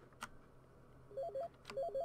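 An electronic phone rings in the horror video game Night Blights: two short bursts of warbling, beeping tones sound faintly against a quiet background, with no one talking.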